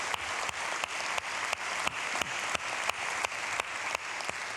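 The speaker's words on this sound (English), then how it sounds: "One more round of applause for Chris." Audience applause for a presenter at a business talk, with soft clapping under a run of sharp, evenly spaced claps that repeat roughly every third of a second, fairly quiet and distant.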